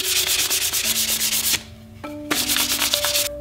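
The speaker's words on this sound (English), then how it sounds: "Right now, I'm just sanding them to about 320 to give them a little bit of a smoother finish." Wooden mallet pieces being hand-sanded to 320 grit, a close, steady rhythmic rubbing with quick back-and-forth strokes, briefly pausing before resuming, with no talking.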